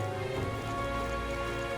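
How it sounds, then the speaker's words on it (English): Rain falls in the video game Metaphor: ReFantazio as a steady, soft hiss of drops, faint and continuous, with a low musical tone underneath and no talking. "The rain remains as unpleasant and oppressive as ever"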